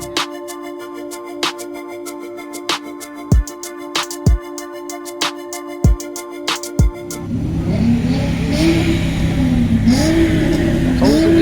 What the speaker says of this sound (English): you guys think you could do a quick little rev?